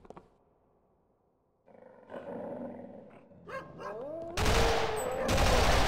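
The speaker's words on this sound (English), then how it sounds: "Hey, Pat, who left the dogs out?" Dogs growling and barking in the horror shooter They Hunger: low snarls build after a quiet start, followed by sharp barks and a loud, harsh burst of noise, with growls continuing close by.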